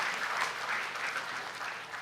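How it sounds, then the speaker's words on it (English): An audience claps steadily at a school finals ceremony, a dense, even wash of applause that holds for the whole stretch without a break. "I would like to clap for them for the endless work which has happened back end"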